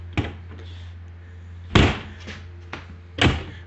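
Doors on an 18 ft Haulmark race trailer being shut, three sharp metallic slams and bangs at irregular intervals with a lighter knock between, close by with no talk.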